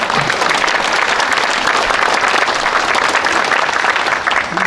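Audience applause at a memorial ceremony for the 59th anniversary of President Syngman Rhee's death, a loud, dense crowd clapping that holds steady throughout without pause.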